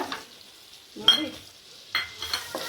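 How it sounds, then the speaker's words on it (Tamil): Paneer frying in hot oil with ginger and garlic: quiet sizzling punctuated by a few sharp spatula strokes and clinks against the pan, close by. "பன்னீர் போட்டு ஃப்ரை பண்ணி எடுத்துக்கலாங்க"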